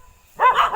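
A dog barks in a short, loud burst of two or three quick yelps close by, right after a stretch of near silence, during a family road trip in a Grand Vitara.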